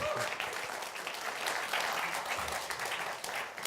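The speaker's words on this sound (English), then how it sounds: "give a massive round of applause to the guys that made that happen" A crowd claps steadily in sustained applause at a game developer session at EGX Rezzed 2019, dense and even, with a faint voice or two underneath.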